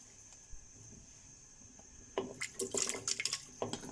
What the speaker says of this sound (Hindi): 3 गिलास पानी डालेंगे, क्योंकि हम ये कुकर में बना रहे हैं